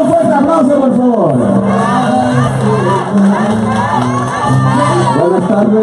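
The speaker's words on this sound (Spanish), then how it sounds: "Un fuerte aplauso, por favor." Large crowd at a Gustavo Petro political rally in San Andrés, loud and continuous, with cheering, shouting and chanting voices over a steady roar, a dense babble of voices with some sung or chanted tones.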